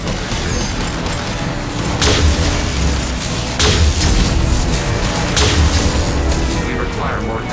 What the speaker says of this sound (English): Have to use heavy weapons on this thing.